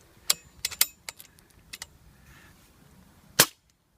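A Crosman 2240 .22 air pistol fitted with a homemade silencer fires, giving short sharp cracks and clicks, with one louder snap near the end, close by and otherwise quiet.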